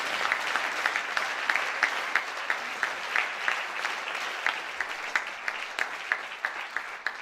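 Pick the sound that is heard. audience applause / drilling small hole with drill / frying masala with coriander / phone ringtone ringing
audience applause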